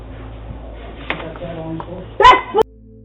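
Dog attacking a woman right outside her home: sharp yelps and whimpers mixed with a burst of frantic barking and shouted human voices, short and chaotic, ending abruptly.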